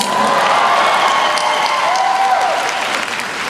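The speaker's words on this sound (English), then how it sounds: "Is there a cheer, a round of applause for corned beef?" A large convention audience at a fan expo Q&A bursts into loud, dense applause with cheering, a continuous roar of clapping and shouts throughout.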